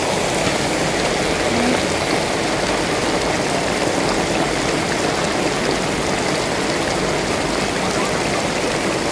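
Steady, dense rain pouring down on a market with a constant hiss and patter, loud and unbroken throughout, no voices.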